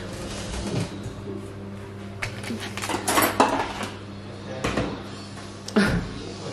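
Plates and dishes clatter at a kitchen sink, with scattered clinks and knocks of crockery and cutlery building into a few louder clusters of rattling, fairly close, while people speak softly in the background.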